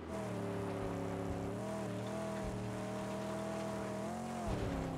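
A loud car engine drones steadily in a video game, its pitch holding and then shifting slightly upward as it revs, filling the whole span with no voices.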